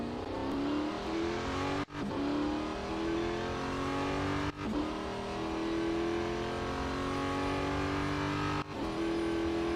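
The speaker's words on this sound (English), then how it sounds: "This car just completely and utterly lacks acceleration." Race car engine in the Real Racing 3 video game held at a loud, steady high drone, rising in pitch across the run with a few brief dips as gears shift, nearby with no talk.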